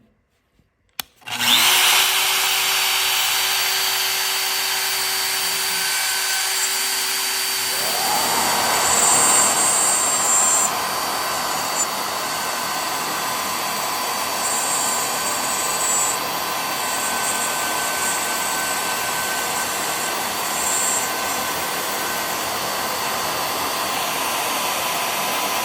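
A Shaper Origin handheld router spins up and cuts through wood a quarter inch deep, a loud, steady high whine that holds near and constant for over twenty seconds with slight shifts as it moves along the cut.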